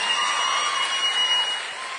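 A political rally audience claps continuously to welcome Harish Rao, a steady broadband wash of applause with crowd murmur that fades slightly toward the end.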